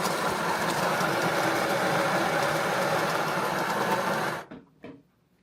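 Steady grinding on a 2023 Nissan Murano being rebuilt runs loud and continuous for about four seconds, then cuts off and winds down, with a couple of brief clanks afterward.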